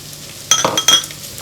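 Mushroom in a pan, likely being cooked: a steady low hiss with two quick bursts of clatter and sizzle close by, then settling back, no voices.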